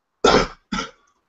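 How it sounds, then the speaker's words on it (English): Two harsh coughs in quick succession, loud and close into a live microphone during an online LEGO build stream, from someone with a sinus infection, followed by silence. "And coughing."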